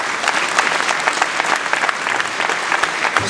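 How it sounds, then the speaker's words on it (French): Dense, steady applause from a political rally crowd for the UDI–Les Républicains alliance during the 2015 regional election campaign, sustained clapping filling the hall with no break. "Je vous prie de leur annoncer un flot d'applaudissements."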